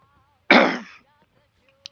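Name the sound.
cough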